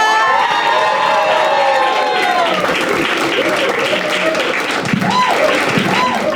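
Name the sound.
comedy audience clapping and cheering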